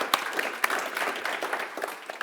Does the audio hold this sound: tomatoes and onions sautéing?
no